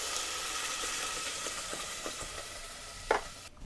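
Crushed tomatoes go into a pan of browned chicken for chicken parmesan with vodka sauce, and a steady close sizzle follows. A few soft stirring scrapes sound over it, then one brief sharper splash of sizzle near the end.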